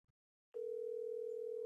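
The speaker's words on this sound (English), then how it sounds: "How do you not answer the phone for Rich Voss?" A telephone call rings out on the line with a steady, continuous tone after a brief silence, unanswered and heard alone with no talking.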